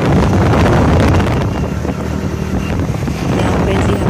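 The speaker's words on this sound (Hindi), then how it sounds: "यहाँ पे जी हम जा रहे हैं बाइक पे" Steady, loud wind buffeting the microphone with an engine hum underneath while riding a motorbike toward the city, continuous throughout without pauses.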